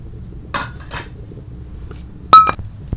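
Metal bowls clink and clatter as they are set out for steaming tal bhapa pitha, a few sharp bright knocks and a louder cluster near the end, close and alone in a quiet kitchen.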